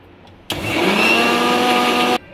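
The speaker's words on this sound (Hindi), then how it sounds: "इसको हम मिक्सी में पीस लेंगे।" A mixer grinder whirs loudly for under two seconds grinding fresh coriander, mint and green chillies, starting and stopping abruptly, with a high steady motor whine.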